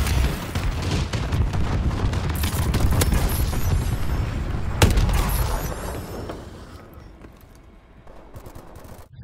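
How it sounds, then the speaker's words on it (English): Dense explosions and gunfire in Call of Duty Advanced Warfare, a sticky bomb going off amid continuous booming rumble with one sharp blast near the middle, loud and chaotic before fading toward the end. "Now it's time for a sticky bomb."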